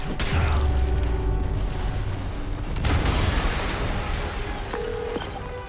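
A deep, rumbling explosion in Marvel's Spider-Man Remastered video game, a heavy boom with sustained low-end roar and debris crackle that stays loud across the whole span before easing slightly.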